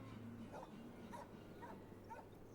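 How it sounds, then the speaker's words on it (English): A dog yelps faintly in the distance, about four short high whimpering cries spaced roughly half a second apart over a low background hum. "No, there was a dog. It was like yelping"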